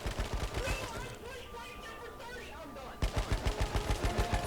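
Rapid automatic gunfire in a shooter video game, heard as loud bursts of evenly spaced shots at the start and again near the end, with a quieter stretch of game noise and possible talk between them.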